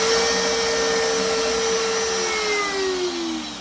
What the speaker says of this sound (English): I can actually kick on the spindle and the shop vac